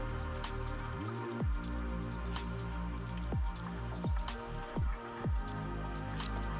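Adhesive squeezed from a tube while bonding an LED roof light pod onto a 2023+ Ford Ranger; several short wet squelches and sliding pops come one after another, close and fairly quiet, with no talk.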